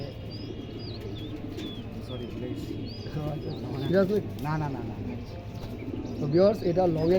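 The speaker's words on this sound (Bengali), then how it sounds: "একটা নর কবুতর এটাও দুই তিনটা রেস করা আছে" A young male racing pigeon coos in low, repeated bursts with a few higher chirps nearby, while someone talks over the birds throughout.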